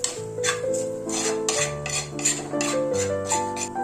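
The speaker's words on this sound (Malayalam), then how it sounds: "നല്ലപോലെ ഇളക്കിയ പൊടി എല്ലാം ഒന്ന് മൂപ്പിച്ച് കൊടുക്കും" Spice powders being stirred and roasted in a pan for tuna curry, with repeated scraping clinks of a utensil against the pan over soft background music.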